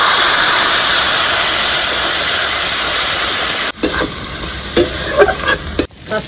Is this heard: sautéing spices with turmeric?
yes